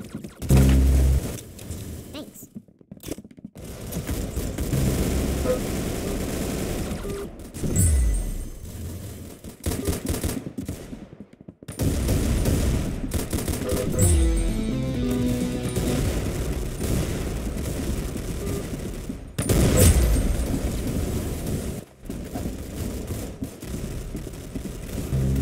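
Gunfire in the video game Arsenal, bursts of shots and booming impacts in loud stretches separated by short silences, with game sounds and occasional voices mixed in.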